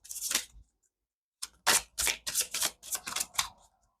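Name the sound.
tarot card deck being shuffled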